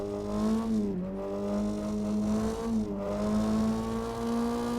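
A car engine in the Money Simulator video game hums and revs with a steady tonal drone, pitch dipping and rising twice over a continuous run.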